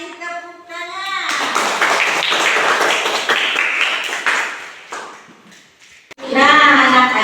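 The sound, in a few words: classroom children clapping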